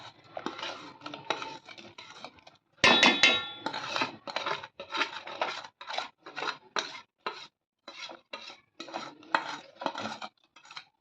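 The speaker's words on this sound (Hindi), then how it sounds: "अब ये धीरे धीरे हम डालेंगे और गोंद को डालेंगे और नॉन स्टॉप आपको हिलाते रहना है।" Gond, edible gum, stirred nonstop in hot ghee in a pan for winter gond pak, giving repeated scraping and clinking strokes of a spoon against the metal, close and fairly loud, with short pauses between strokes.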